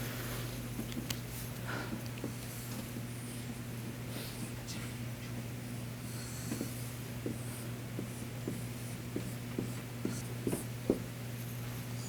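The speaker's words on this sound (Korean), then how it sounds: "그래서 그 실천이라는 한자를 먼저 한번 써볼게요." Hand-writing Chinese characters on a surface, with scattered soft strokes and taps spread across the clip over a steady low hum, quiet and close, with no talking.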